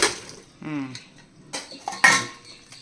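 Kitchen sounds as cooked amaranth greens and vegetables are poured from a pot into a bowl: a few sharp metallic clinks and scrapes of pots and a spoon, spaced irregularly, with brief soft voices between.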